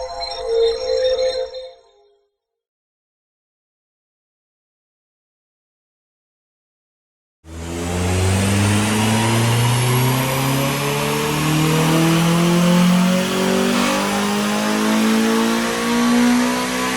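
A Honda EP3 Civic Type R with a K20 engine, strapped down on a dyno, revs hard through a long power run after a brief burst and a pause of silence, its pitch climbing steadily, loud and close.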